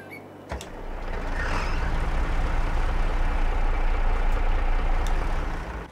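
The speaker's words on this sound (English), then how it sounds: "Nice engine sound." Truck engine running in the Farming Simulator video game, a steady loud low rumbling idle that swells after a brief click and holds without talking.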